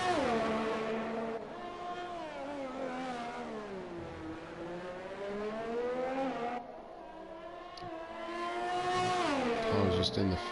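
An F1 race car in the video game F1 2020 runs an out lap at the Vietnamese Grand Prix, its engine note rising and falling steadily through high-speed twisty corners, loud and continuous with faint commentary underneath.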